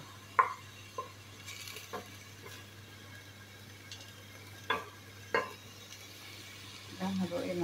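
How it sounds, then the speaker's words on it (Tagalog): Tortilla chicken soup with jalapeno stirred in a pot, heard as sparse light spoon clinks against the metal over a faint low background hum, with a soft scraping rustle near the end. "Pagkatapos natin haluin lang natin guys."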